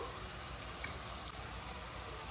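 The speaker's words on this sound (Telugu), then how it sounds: "ఇప్పుడు ఉల్లిపాయ ముక్కలు వేస్తున్నాను రొయ్యల ఇగురుకి" Onion pieces tip into hot oil for an Andhra-style shrimp curry and fry with a steady, close, even sizzle that keeps going without pause. No one speaks.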